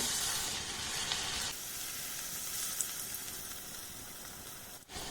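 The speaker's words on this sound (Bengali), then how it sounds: "আবার এটাকে আস্তে করে আমি তেলের মধ্যে ছেড়ে দেব।" Mung dal pitha frying in hot oil gives off a steady, close sizzle with a dense hiss that runs the whole time, easing a little after the first moments and broken by one brief dip near the end.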